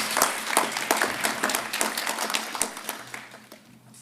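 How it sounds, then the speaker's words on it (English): Applause from an audience at a school graduation ceremony, a steady patter of many hands clapping that fades toward the end, heard alone without talk. "Big round of applause."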